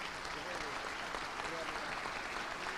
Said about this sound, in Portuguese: E eu até queria pedir uma salva de palmas de pé para o meu presidente